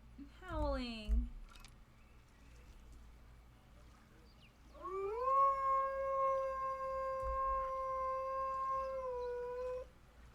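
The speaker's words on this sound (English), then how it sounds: "Why are you howling?" A timberwolf in the Planet Zoo video game lets out a short rising-and-falling howl, then after a pause a long sustained howl holds steady for several seconds, clear and fairly close.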